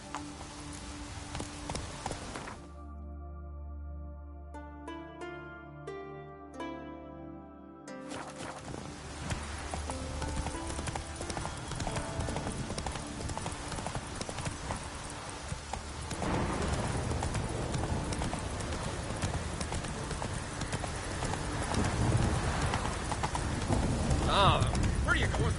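Roach, the horse in The Witcher 3, gallops with a steady, rapid clip-clop of hooves beneath game music, ambient sound and characters talking.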